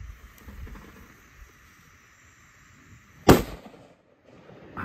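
A single sharp firecracker bang cracks out once at night near a parked truck, a loud close burst standing alone over low ambient hiss.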